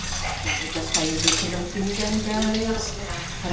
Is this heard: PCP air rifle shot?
no